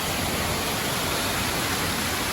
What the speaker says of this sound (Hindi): तो चलिए इसी के साथ फिर आपको दिखाते हैं एक वाटरफॉल का सीन